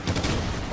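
Sustained burst of video game gunfire in Warhawk, a dense rumbling volley of shots lasting under a second, loud and close with no pause.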